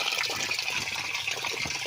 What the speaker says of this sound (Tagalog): hugasan natin yung bigas mga friend, yung malagkit